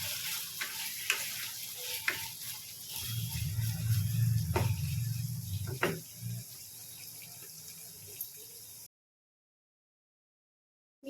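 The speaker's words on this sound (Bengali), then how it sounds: "এক মিনিট ধরে কষিয়ে নেব।" Pointed gourd curry sautéing in a pan with a little salt gives a quiet sizzle and stir that swells for a few seconds, with faint utensil taps before and after, then falls silent.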